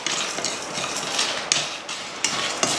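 Fennel, poppy seeds, dried chillies, cardamom, cloves and cinnamon dry roasting in a pan for egg curry: a soft, steady rustle and faint crackle, with a few sharp clicks of a spoon against the metal.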